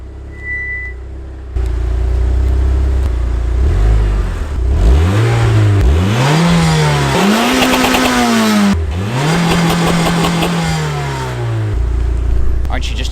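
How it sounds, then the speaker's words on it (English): A Mitsubishi Lancer Evolution 8 or 9 RS on its stock exhaust revs hard several times, rising and falling in loud, close bursts with steady engine drone between pulls. "Aren't you just jealous of that stock exhaust?"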